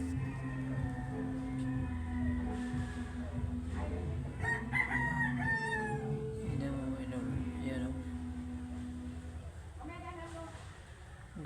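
African birds call repeatedly with crowing, rooster-like cries and short clucks over constant background noise, while someone talks nearby.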